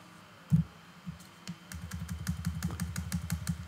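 A few isolated clicks come first, then a steady run of rapid, close keystrokes on a computer keyboard while a database component is entered in design software.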